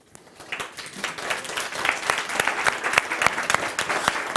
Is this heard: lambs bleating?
no